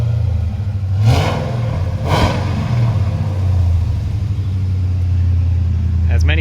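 A 416 stroker LS3 V8 with new headers idles as a deep, close rumble, then two quick throttle blips swell sharply and fall back before it settles into a steady idle again.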